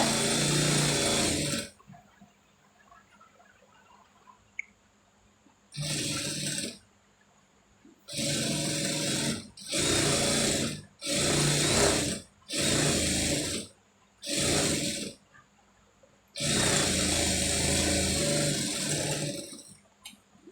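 A sewing machine stitches around a sleeve joint at the armhole, running in several separate bursts of steady whirring, some short and some longer, with quiet pauses between them.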